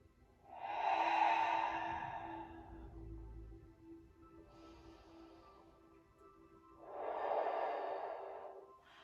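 Two slow, deep exhales out through the mouth during a stretching session, each a soft, airy whoosh lasting a couple of seconds, close and quiet with a pause between them.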